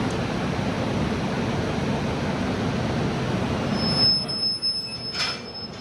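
An AC double-decker express train at Bengaluru station, arriving from Chennai, gives a loud, steady rolling rumble that fades near the end, leaving thin, high wheel squeals and a brief hiss.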